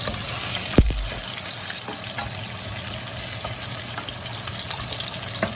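Shallots fry in a pan of oil with a steady sizzle that carries the whole time, marked by a sharp clack near the start and a few soft ticks. No one speaks.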